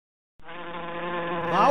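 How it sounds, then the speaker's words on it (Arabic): A mosquito whines in a steady, close, thin buzz that starts abruptly after a brief silence and holds alone, swelling slightly louder toward the end. "بعوضة."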